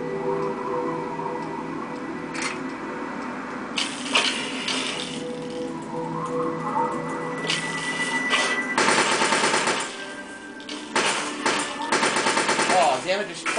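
Video game gunfire from Fallout 3 comes in rapid bursts and single sharp shots, fired in clusters against a busy game soundscape with no talk.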